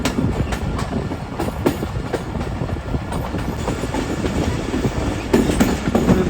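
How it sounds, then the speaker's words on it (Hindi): The Allama Iqbal Express rolls along the rails, a steady close rumble cut by repeated sharp clicks and clacks from the wheels crossing rail joints, with no voices heard. "मेन लाइन को ट्रेन ने छोड़ दिया है"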